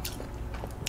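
Biting into a Korean rice-cake corn dog makes a few close, crisp crunches of batter, then quieter chewing, heard alone.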